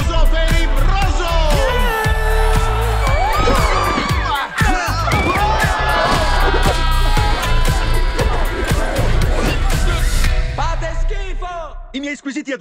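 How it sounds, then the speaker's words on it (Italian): A crowd cheers, whoops and applauds in an animated Trolls movie trailer, dense and loud under heavy music and shouting voices for most of the clip, then cutting off abruptly near the end. "Un bel applauso per i Broso!"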